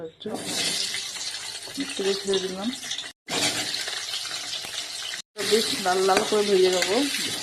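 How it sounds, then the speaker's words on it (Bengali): Onion and tomato paste frying in a pan for a rohu fish curry, a steady sizzle with stirring that runs throughout, broken by two brief silent gaps, while someone talks over it. "টমেটো দিয়ে এগুলো দিয়ে পেস্ট করে দেবো বেশ লাল লাল করে ভেজে দেবো"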